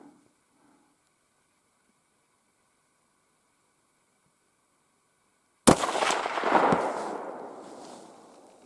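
A single sharp, loud rifle shot cracks during a black grouse hunt after near silence, followed by a rumbling, echoing tail that slowly fades over a few seconds.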